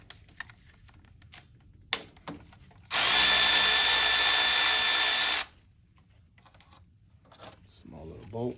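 A power tool whirs loudly for about two and a half seconds, steady and close, while removing a small bolt from the thermostat coolant pipe of a 2013-2014 Mercedes C300 3.5L M276, with faint clicks and handling noises before and after.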